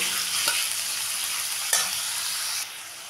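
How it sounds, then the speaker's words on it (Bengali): Potatoes fry with slit green chillies and salt, giving a loud, steady close-up sizzle with a couple of brief stirring scrapes, and the hiss drops slightly near the end. "দিলাম সেই সাথে 2টো চেরা কাঁচা লঙ্কা, দিলাম খানিকটা নুন পরিমাণ মতো, দিয়ে এখন একটু মিশিয়ে নেব, দিয়ে একটু ভেজে নেব।"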